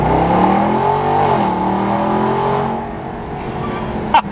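A Ram TRX pickup truck with an $18,000 build roars under full-throttle acceleration, heard through the open rear window as a loud, rising engine and exhaust note that climbs and shifts pitch before easing off near the end.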